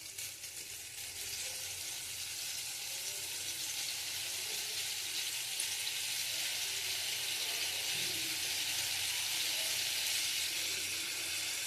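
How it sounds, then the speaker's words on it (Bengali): Fish curry gravy bubbling at a boil in a pan, a continuous moderate hiss and fizz with soft popping that stays even throughout. "দেখো ঝোলটা ফুটে গেছে"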